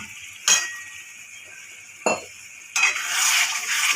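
A spoon scrapes and clinks against a pan as fried spice masala for spicy chicken is stirred. There are two distinct stirs, then a rising sizzle in the final second.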